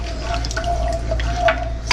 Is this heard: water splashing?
yes